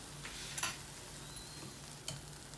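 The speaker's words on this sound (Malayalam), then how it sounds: "നേന്ത്രപ്പഴം വയറ്റുകയാണ് ഇനി ഈ ഒരു സിറ്റുവേഷനിൽ നമ്മൾ ആദ്യത്തെ നെയ്യ് ഒഴിച്ചു കൊടുക്കും" Ripe nendran banana cooking in ghee in a pan, a soft continuous sizzle with a few scraping stirs of a spoon, close and fairly quiet, with no talking.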